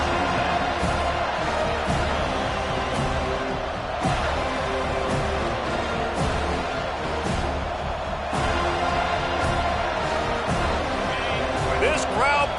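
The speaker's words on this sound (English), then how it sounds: "This crowd bringing the energy and noise early." A dense, loud crowd roar fills a large stadium at a Florida State football game, steady throughout, with scattered shouts and cheers rising over the constant din.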